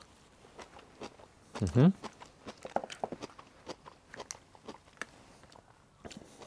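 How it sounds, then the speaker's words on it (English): Crunchy daikon radish and carrots from a Japanese New Year osechi feast are chewed close to the mic, with one loud crunching bite and then softer irregular chewing and a brief murmur. "So I believe this is daikon radish, crunchy daikon radish and carrots."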